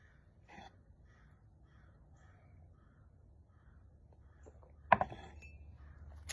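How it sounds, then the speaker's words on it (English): A crow caws in short, fairly faint bursts from some distance, a few spaced calls over a quiet outdoor background, followed by a sharp louder knock or clatter near the end. "There's the crow again."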